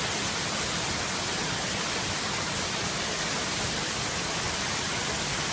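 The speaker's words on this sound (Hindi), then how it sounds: "झरने के पास पहुंच चुके हैं हम।" Khabru waterfall in the Boh Valley of Himachal Pradesh roars steadily, a dense broadband rush that fills the air from start to finish without any voices over it.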